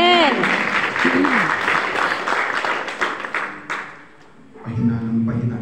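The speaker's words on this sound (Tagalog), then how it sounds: "Pahina ng pahina na yung palakpak." Audience applause at a church service, a steady wash of clapping under a preacher's voice that thins and fades, then talk resumes alone.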